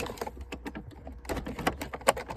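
Rapid, irregular plastic clicking and rattling from a gear shift slide cover being worked on an automatic Golf 4 shifter, close up, in dense bursts with short pauses and no speech.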